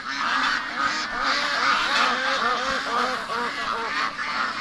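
Domestic ducks, or geese, at a homestead honk and quack repeatedly in a loud, overlapping flock chorus, close by and continuous, with no talk over the calls.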